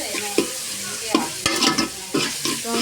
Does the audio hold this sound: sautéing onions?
yes